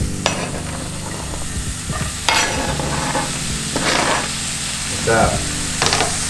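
Onion going into a pan of frying potatoes for vegan breakfast burritos, with steady loud sizzling throughout and repeated scraping stirs of a utensil against the pan; a brief voice speaks.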